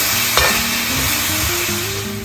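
Close-up sizzling in a pan with scraping stirring strokes through a thick, bubbling chicken curry masala with added water, continuous and fairly loud, no voices.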